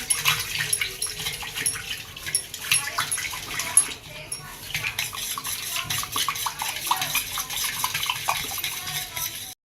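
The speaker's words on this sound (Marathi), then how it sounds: "या चवीनुसार मीठ टाकूया आणि याला छान मिक्स करून घेऊ" Raw mango sherbet is stirred with salt in a vessel, producing soft, continuous liquid swirling and light clinks against the container, with someone talking over it.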